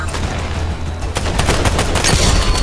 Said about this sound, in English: I tried sniping him with the Mando rifle and it's not working